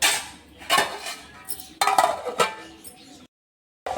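A utensil clinks and scrapes in a metal pot while sambar with cucumber, drumstick, chili and peanut powder is stirred, with several sharp close knocks, then a short silence before one more clink.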